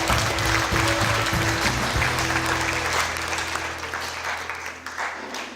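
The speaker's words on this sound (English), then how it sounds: "a round of applause for Bronwyn and Kieran." Wedding guests applauding the couple, a warm wash of clapping from a room of people over a low musical hum, gradually thinning and fading toward the end.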